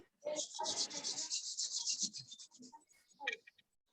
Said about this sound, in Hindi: दोनों हाथों को रब करेंगे